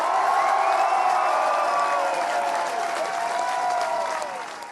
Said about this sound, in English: So it was a huge ovation for Tiernan.